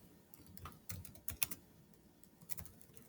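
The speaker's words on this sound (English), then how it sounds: "I be typing so fast, y'all." Fast typing on a computer keyboard while drafting a legal motion: quick, irregular bursts of close key clicks with brief pauses, alone and fairly quiet.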